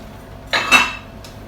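Dishes and a jug handled in a home kitchen, giving two sharp ceramic clinks close together near the middle and a fainter knock shortly after, in a quiet room.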